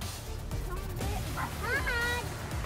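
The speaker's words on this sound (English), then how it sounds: "I see a puppy" Small brown-furred Pomeranian puppy yipping and whimpering in short high-pitched bursts outdoors, with voices talking over it.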